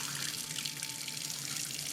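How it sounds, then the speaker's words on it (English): Cold tap water runs steadily into a pot of boiled eggs, a continuous close splashing and gurgling stream that fills the whole stretch without pause or voices. "Just let cold water get into them."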